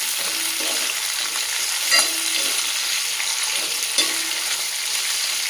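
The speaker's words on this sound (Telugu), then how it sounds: "సోరకాయ, బెండకాయలు అన్నీ వేసి కొంచెం ఫ్రై చేయాలి." Bottle gourd and okra frying in a pan, a steady close sizzle with stirring scrapes and a couple of brief clinks, no talking.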